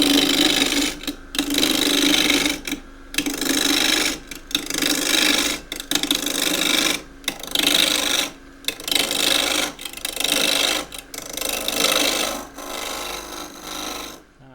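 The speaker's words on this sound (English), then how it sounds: "This is the same peeling cut from above. This is a very dry old bit of jacaranda." A skew chisel takes a peeling cut on a very dry, old piece of jacaranda spinning on a lathe, giving a loud, close, rasping scrape in repeated bursts of a second or two, separated by brief pauses.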